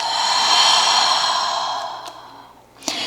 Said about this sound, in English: take a round of cleansing breath with an inhale through the nose and an exhale out the mouth